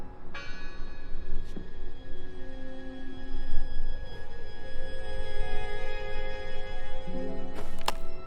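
A church bell in the video game Draugen rings out with long, sustained ringing tones that hang over a low ambient rumble, with a couple of sharp knocks near the start and end.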